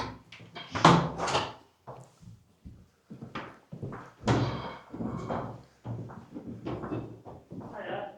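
The front door of the Moorland Hotel on Dartmoor in Devon opens, giving a few short knocking and clattering sounds close by, mixed in with people talking.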